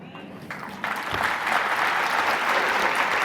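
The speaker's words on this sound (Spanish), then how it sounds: "Los aplausos a la Virgen." An audience at a religious retreat talk breaks into applause that swells quickly and holds as a steady, dense clapping, with a voice speaking briefly as it begins.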